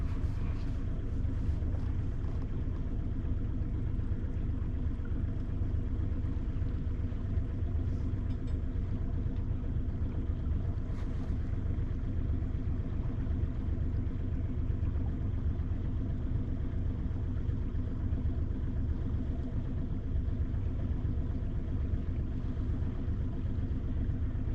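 A boat engine rumbles steadily and close by in a low, continuous drone that never stops, with no talk over it.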